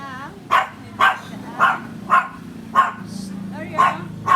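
A dog barks about eight times in a steady, evenly spaced series, loud and close on a terrace, while a person's voice talks and calls in between and under the barks.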